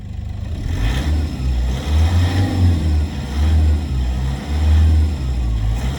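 A Toyota Innova engine hums and revs from inside the cabin, a steady low drone with swells of acceleration, loud and continuous; the steering column boot is broken.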